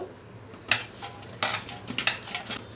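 A plate is set down over gulab jamun dough in a kitchen, giving a few quiet, sharp clinks and taps of dishware in close succession.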